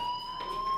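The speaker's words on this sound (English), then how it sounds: "Hey, do you hear that fire alarm?" A school fire alarm rings in the video game Life is Strange, a steady high electronic tone with harmonics sounding continuously, moderately loud and alone without speech.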